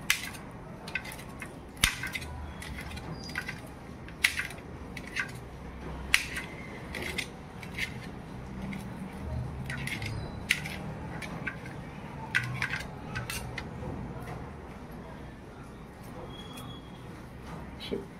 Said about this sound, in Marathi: मधून मधून तिला कापून घ्यायची, म्हणजे ती बारीक चिरल्या जाते छानपैकी